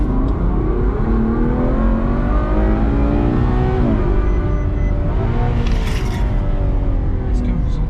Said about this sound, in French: est-ce que vous entendez le bruit de ce moteur